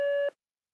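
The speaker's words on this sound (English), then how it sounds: "Wait for the beep." An answering machine gives a single short electronic beep, a clean steady tone that cuts off abruptly into silence.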